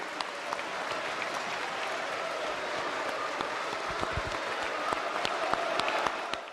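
Parliamentary deputies give a stormy farewell ovation, sustained applause from a large chamber crowd, dense and continuous with sharper claps standing out toward the end.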